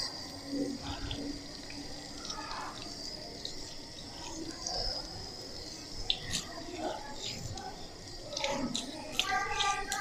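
Hands rinsed under a running tap, a steady close wash of water with splashes and small drips throughout, with soft voice sounds now and then beneath the flow.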